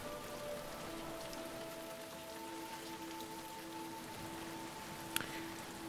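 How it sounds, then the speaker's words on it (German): Steady rain falling in the video game Stronghold 3, an even hiss of drops on surfaces with a low tonal hum underneath and one brief sharp tick near the end. "Wird dieser Regen nie ein Ende nehmen, my lord?"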